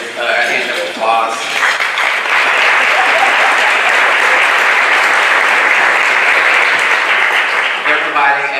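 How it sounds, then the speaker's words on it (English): Sustained audience applause at a health-focused luncheon in Colorado, a dense, steady wash of clapping from a large crowd that swells in quickly and holds loud for several seconds before tapering slightly. "We can give them a hand of applause."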